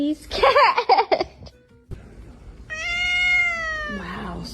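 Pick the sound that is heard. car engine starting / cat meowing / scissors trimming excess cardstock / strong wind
cat meowing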